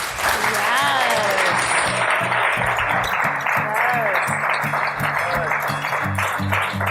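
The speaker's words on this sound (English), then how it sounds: "Can we get a big round of applause for?" An audience at a live podcast recording in New Orleans gives a big round of applause, dense sustained clapping with scattered whoops and voices, and a low rhythmic music pulse running underneath.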